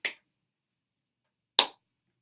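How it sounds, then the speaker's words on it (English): Two sharp, isolated hand claps about one and a half seconds apart, close and crisp, with silence around them and no talking. "so clap your hands like this"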